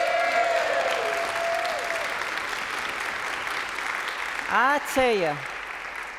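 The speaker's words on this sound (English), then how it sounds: "Would you give him a hand clap of love?" A church congregation claps for their pastor's birthday, a steady crowd applause that fills the room, with a voice speaking over it near the end.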